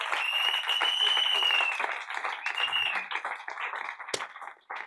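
A church congregation at a French-language worship service applauds in a sustained, dense wave of clapping that dips and swells, with a sustained tone and voices mixed into the crowd noise.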